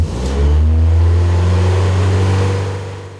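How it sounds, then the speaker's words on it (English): A car engine with a suspected sensor fault idles and revs, a loud, steady mid-pitched drone with a strong low hum swelling and holding close to the microphone, no voices. "Obviously, I don't want to run the engine too long"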